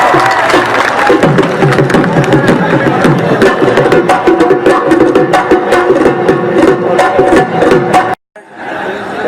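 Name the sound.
audience clapping and cheering at live show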